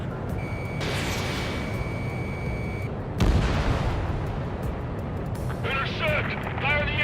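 Anti-aircraft fire in the video game Ace Combat 7, heard as a sustained rumble of distant gunfire and blasts with a steady warning tone, then a sharper burst midway, while a voice speaks near the end.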